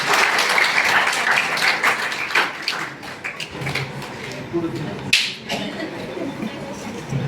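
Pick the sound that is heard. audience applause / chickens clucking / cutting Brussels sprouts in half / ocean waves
audience applause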